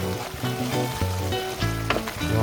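Food sizzles steadily in a hot pan while seasoning is stirred through, with scraping and clacking utensil strokes over the constant frying hiss, close and fairly loud.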